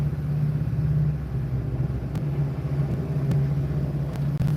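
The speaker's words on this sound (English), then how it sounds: "Yeah, that truck's awful loud." A loud truck idles and rumbles nearby in traffic, a heavy, steady low drone with occasional faint clicks and knocks.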